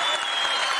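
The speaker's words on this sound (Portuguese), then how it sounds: "eu penso uma salva de palmas" An audience gives a round of applause, a dense steady patter of many hands clapping at moderate volume, heard on its own for a brief moment.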